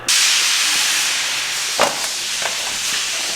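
A large air compressor gives off a loud, steady broadband hiss from the start, with a few brief clatters partway through.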